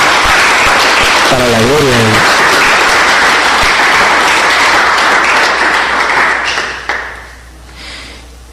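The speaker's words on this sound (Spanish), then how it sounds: "Eso se merece un aplauso." Loud congregational applause fills a Catholic church, a voice speaking briefly over the start before the clapping thins and fades out near the end.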